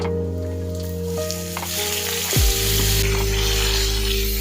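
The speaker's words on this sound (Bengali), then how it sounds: "মাছ ভাজার যে তেল ছিল ওতেই আমি ফুলকপি আর আলুটাকে হালকা ভেজে নেব" Steady sizzling of cauliflower and potato frying in hot oil, jumping to a louder, fuller sizzle as more pieces drop into the pan partway through.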